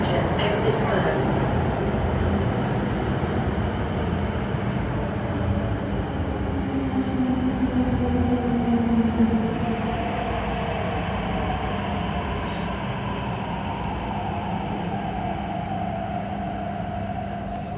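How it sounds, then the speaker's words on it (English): A metro train pulls into Sung Wong Toi Station with a steady rumble and rising, falling wheel and motor tones, while a voice speaks over it. "The train to Wukai is arriving."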